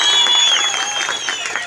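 An audience claps and cheers steadily at a public speech event celebrating Bhimotsava, the dense applause holding through the whole moment.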